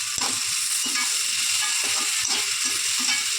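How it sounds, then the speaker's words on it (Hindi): Finely chopped tomatoes with their skins on sizzle loudly in a hot tadka, a steady, close frying hiss with a few scraping stirs and clinks. "बिल्कुल ऐसी आवाज़ आ रही थी ये तड़के में।"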